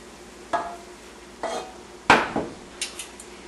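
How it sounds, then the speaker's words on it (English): Shredded cabbage cooking in a pan is stirred around, the utensil knocking and clinking against the pan in a few separate, spaced strikes over quiet background. "So I'm just going to stir that around"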